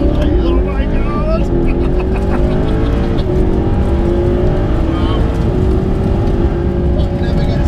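A Mercedes SLS AMG's V8 engine accelerates hard down a runway, its loud, close roar climbing steadily in pitch through a long continuous pull with brief shifts, while faint voices exclaim underneath.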